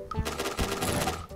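Rapid gunfire from the Barrett rifle in the shooter game Point Blank, a dense burst of loud close shots running through most of the short stretch.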